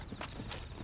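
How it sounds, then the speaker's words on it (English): Enemy footsteps in the video game Dark Souls: a few muffled, evenly spaced thuds with a hoof-like clip-clop character over a steady low game ambience. "I still hear them footsteps though"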